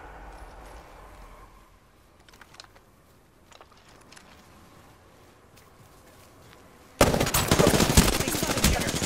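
Sparse, faint clicks and pops of Apex Legends gunfire for most of the stretch, then a sudden loud, dense burst of rapid shots near the end.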